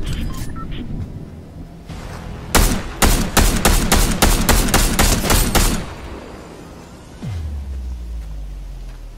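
Rapid automatic gunfire in the video game Fortnite, a loud string of about a dozen close, evenly spaced shots, followed by a deep low rumble.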